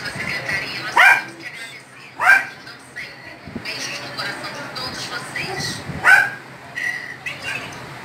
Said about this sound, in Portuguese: teve cachorro latindo a formatura inteira